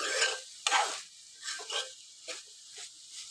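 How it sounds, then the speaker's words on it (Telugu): Carrot and bean curry with spices frying in oil, faint sizzling broken by a few scraping stirs of a spoon in the pan, quiet and close. "ఇప్పుడు ఇదంతా మంచిగా ఫ్రై అవుతుంది"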